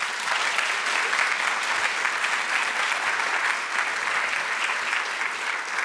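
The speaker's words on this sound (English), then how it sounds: "Let's give her a round of applause." Steady applause from a crowd at a graduation ceremony, continuous and fairly loud, with no voices over it.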